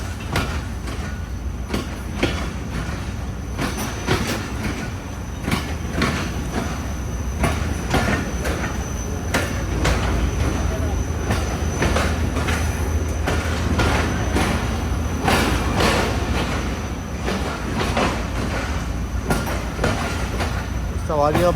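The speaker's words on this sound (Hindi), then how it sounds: "ये जी दोस्तों 9:15 बजे हमारी ट्रेन अप्रोच बना रही है बिरिया रोड रेलवे स्टेशन पर।" The Sukkur Express train approaches Biriya Road railway station, its wheels clattering rhythmically on the rails over a steady rumble. Occasional squeals and platform commotion are heard, and the train stays loud and close throughout.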